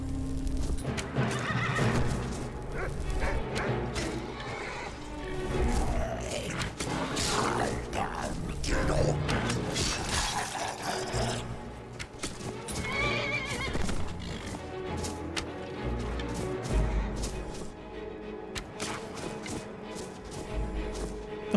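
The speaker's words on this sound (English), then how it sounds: "came across a ruin that was being guarded by Draugr on horses" Undead horses ridden by Draugr in the video game Skyrim neigh and whinny repeatedly, with clip-clopping hooves and game music filling the background throughout.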